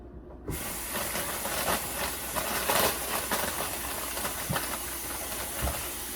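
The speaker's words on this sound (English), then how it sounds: "I'm going to rinse the grapes off and put them in here" Running water rinses grapes, a steady broadband rush that starts abruptly and continues throughout, loud and close.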